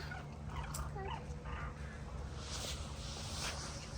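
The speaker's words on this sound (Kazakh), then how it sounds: "Құстар ғой." Swans call faintly at a botanical garden in autumn, with a few short honks heard at a distance over a steady outdoor hum.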